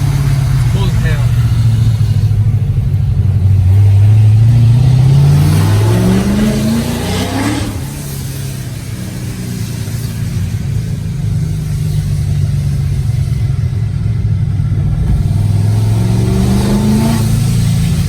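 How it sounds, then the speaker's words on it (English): A tuned Corvette engine revving hard through rising and falling sweeps, loud and close, with blow-off valve whooshes between pulls over an 18-second stretch, someone talking over it. "the coolest thing I like about this car right now is that blow-off valve"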